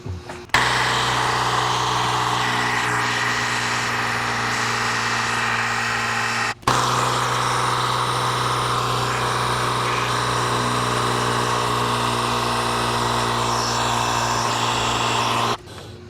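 A Ryobi PCL001B cordless tire inflator runs with a steady, loud motor-and-pump drone and a strong buzzing hum, cutting out briefly near the middle before restarting and stopping near the end.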